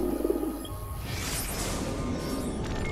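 Pigeons coo briefly in Assassin's Creed Brotherhood, a soft low warble at the start that gives way to a rushing ambient wash for the rest of the short moment.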